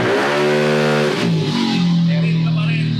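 A Honda ADV 160 scooter with an upgraded CVT and remapped stock ECU runs loud at full throttle on a dyno. The strong engine drone then drops in pitch and eases off, with people talking nearby.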